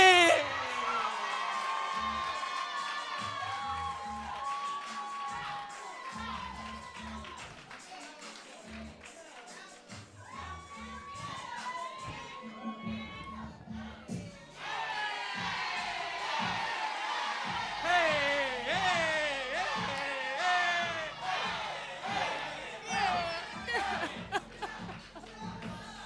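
Audience at a live event in Philadelphia cheers and whoops, with scattered laughter and crowd noise continuing steadily for about twenty-five seconds, loud and near, swelling in the second half.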